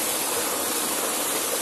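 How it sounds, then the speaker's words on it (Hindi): Water rushes hard through a narrow channel toward a traditional water mill near Kotdwara, a loud, steady, close roar with no breaks and no voices. "ये आ रहा है पानी फोर्स के साथ इस नाली से और तब जाके चक्की में जाता है।"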